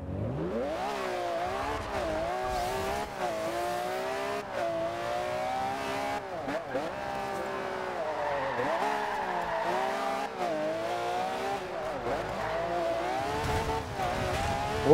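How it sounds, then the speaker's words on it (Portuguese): A car in a Forza Horizon 2 online drag race, its engine revving in rising and falling sweeps with steady tire squeal from skidding. The sound runs loud and continuous for the whole stretch, with no talk over it. "que ele derrapa pra caramba"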